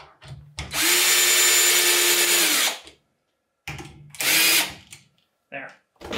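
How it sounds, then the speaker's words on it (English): A power drill driving a screw on a stick build: two loud whirring bursts, a long one and a shorter one, with clicks and brief handling sounds around them. "finish it with the drill"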